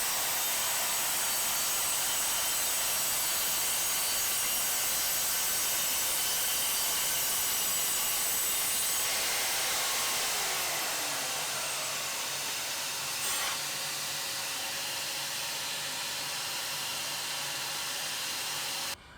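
Evolution R185CCSX budget track saw cutting 18mm chipboard: a continuous, fairly quiet whining blade-and-motor sound that runs steadily, then spins down and fades toward the end.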